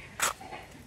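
A single short, faint dog bark cuts in briefly on an outdoor walk, with quiet ambient noise around it.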